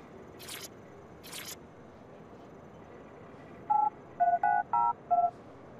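In Watch Dogs Legion, a keypad gives four short electronic beeps in quick succession as a code is entered, following two brief soft scrapes over quiet ambience with no talk.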